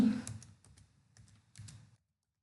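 Typing on a computer keyboard while entering a MySQL table command, a short run of close key clicks in bursts, then silence.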